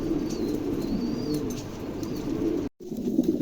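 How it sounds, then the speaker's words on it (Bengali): Pigeons kept for sale cooing up close, a low, continuous throaty burble with faint chirps above, interrupted by a brief silent gap near the end, no talk. "কবুতর দেখেন"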